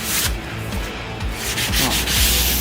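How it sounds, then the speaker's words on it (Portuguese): Sandpaper rubs along the edge of a plaster finish in quick, repeated back-and-forth strokes, with a close, dry, scratchy sound and no talking. "Vai pegar a lixa, passa só na quininha, sempre passando a mão."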